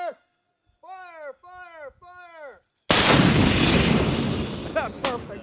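M3E1 MAAWS anti-armor weapon fired once on a range, a sudden huge blast with a long rumbling decay, preceded by shouted commands and followed by more voices.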